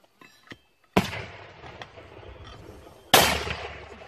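An 81mm mortar fires twice in a few seconds, each round a sharp, loud blast followed by a rumbling decay. Faint clicks come before the first shot.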